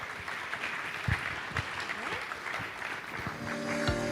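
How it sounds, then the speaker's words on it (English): Audience applause for a gaming panel, a scattered clapping that holds steady for a few seconds at moderate distance, with faint voices underneath. "Can we have a round of applause for our panelists?"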